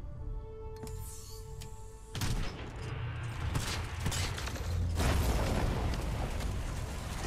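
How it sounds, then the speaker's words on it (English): Grenades going off in a Titanfall 2 firefight, a dense run of booms and bursts that swells louder over several seconds, layered over rumbling game noise. "All these grenades are going to fall down on top of us. It's a little fireworks show, I guess."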